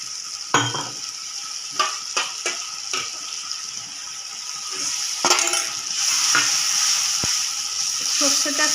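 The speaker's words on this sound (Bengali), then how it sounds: "সর্ষেটা, কাঁচা লঙ্কা বাটা সব নাড়বো ভালো করে।" A mustard and green chilli paste sizzles in a wok while a spoon stirs and scrapes it, with intermittent clinks and knocks over a steady frying hiss.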